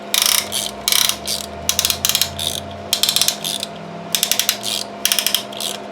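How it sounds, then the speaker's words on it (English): A ratchet-type piston ring compressor is tightened around the pistons during a rebuild of a GM 2.4 Quad 4 LD9 twin-cam engine from a 1999 Grand Am, giving close, crisp bursts of rapid clicking in repeated short strokes. "we're just going to tighten this little ratchet device up"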